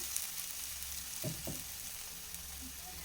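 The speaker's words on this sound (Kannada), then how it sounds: "ಸೊ ಈಗ ಇದು ನೀಟಾಗಿ ಈ ರೀತಿ ಫ್ರೈ ಆಗಿದೆ" A masala for sprouted-gram saaru fries in a pan, giving a faint, even hiss with a couple of soft stirring scrapes near the middle.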